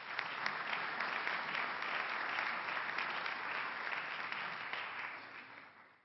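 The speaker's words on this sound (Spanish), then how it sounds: "pido un aplauso para Gerardo Bongiovanni" Sustained audience applause fills a book presentation hall, steady dense clapping for several seconds that gradually fades toward the end.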